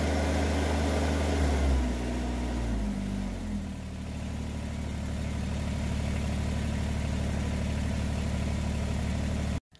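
A Kubota BX23S compact tractor engine runs steadily close by, a loud continuous low rumble whose pitch settles lower after the first few seconds before cutting off abruptly at the end.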